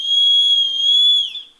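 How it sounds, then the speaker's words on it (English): A small aluminum survival whistle gives one shrill, steady blast held for over a second, loud and close, then tapers off briefly at the end. "here is a little aluminum whistle"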